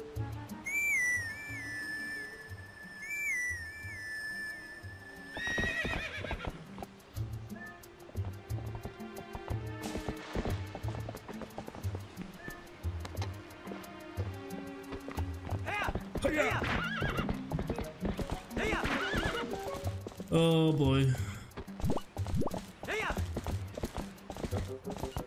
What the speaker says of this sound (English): Pick this and call my horse